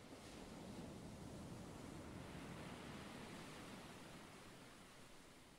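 Waves crashing against a cliff, a continuous broad roar of surf that is faint and steady and slowly eases off toward the end, with no voices.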